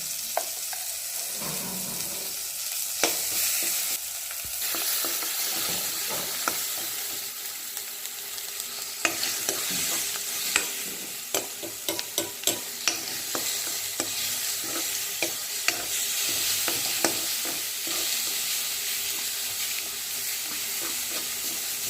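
Ground spice paste frying in oil for a drumstick curry, a steady close sizzle with scraping stirs and occasional clicks of the spoon against the pan, no talking.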